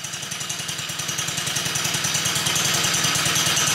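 The small engine of a homemade DIY mini jeep runs just after being started, with a fast, even, pulsing chug that is loud and close throughout and no talking.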